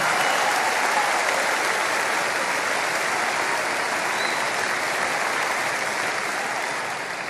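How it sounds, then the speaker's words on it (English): A church congregation claps their hands together during a sermon, a loud, dense and continuous wash of applause that holds steady throughout and eases slightly at the end. "Clap your hands and say it's prayer time in America."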